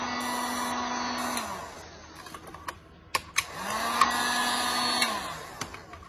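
Heat gun warming a dented metal fuel tank from a Honda 185s during paintless dent repair, a steady blowing hiss that swells and fades twice, broken by small clicks and taps close by.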